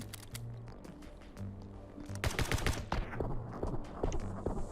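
Rapid bursts of gunfire in the video game My Friend Pedro crackle through the second half, dense clattering shots building into a fusillade over a low hum of game music.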